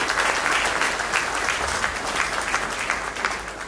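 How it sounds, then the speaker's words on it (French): An audience applauds at a Bastille Day celebration in Abidjan: dense, sustained clapping from a crowd, heard close and fairly loud. "Je crois que ça vaut des applaudissements pour Max."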